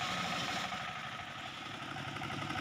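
A homemade portable sawmill's engine, built in Simpang Keramat, North Aceh, runs steadily at a near, loud idle with a low rumbling throb and constant vibration throughout.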